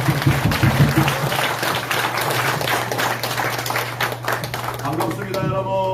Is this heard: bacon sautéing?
no